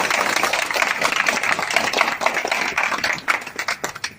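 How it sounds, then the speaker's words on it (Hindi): A crowd at an investors' meeting about PACL refunds claps loudly and close, a dense burst of applause that thins into separate claps toward the end. "अगर ये सही हो तो ताली बजा दो"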